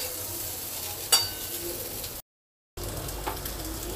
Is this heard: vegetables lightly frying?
yes